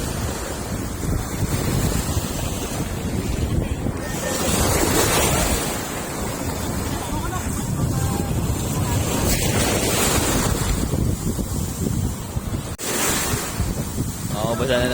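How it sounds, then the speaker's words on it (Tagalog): Strong sea waves surge and crash continuously, mixed with heavy wind buffeting the microphone, loud and close throughout. "At malakas ang alon."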